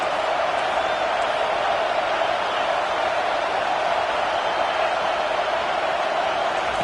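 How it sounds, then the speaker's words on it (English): Steady roar of a stadium crowd cheering on third down in a college football video game, Texas vs LSU, a dense continuous wash of noise holding at one level throughout. "Decibels rising as the crowd gets behind this defense on third down"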